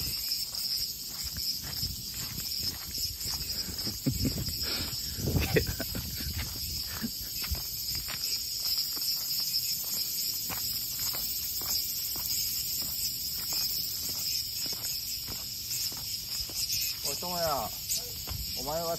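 Cicadas buzz in a dense, continuous high drone on a summer day in Toyohashi, Japan, loud and unbroken, with soft rustling and footsteps underneath.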